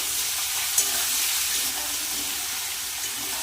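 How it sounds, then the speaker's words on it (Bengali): Cut pointed gourd, potato and amaranth greens frying in a pan for a thin rohu fish curry, a steady close hiss and sizzle with no talk. "সবজিটা একটু ভেজে নেবো"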